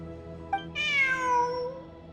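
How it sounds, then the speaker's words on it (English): A cat meows in the video game Genshin Impact: one drawn-out, clear, close meow rising and then falling, preceded by a tiny chirp, over a quiet ambient game background. "Look, a cat."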